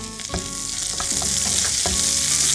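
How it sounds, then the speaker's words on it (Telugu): Finely chopped spring onions and mint frying in a pan while being stirred, a close, continuous sizzle with sharp spatula knocks and scrapes at irregular intervals, no talking. "లైట్గా వేగిన తర్వాత సన్నగా తరుక్కున్న ఉల్లికాడలు"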